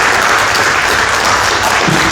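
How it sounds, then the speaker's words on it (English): Audience at a county candidate forum for school board hopefuls gives loud, dense, continuous applause, a close wash of many hands clapping at once without letup. "let's give a big round of applause to"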